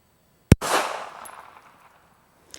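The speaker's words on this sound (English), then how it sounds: "Bring the gun up, anchor, and fire." A single sharp handgun shot at a shooting range, loud and close, with a crack followed by a long ringing decay. A faint click comes a couple of seconds later.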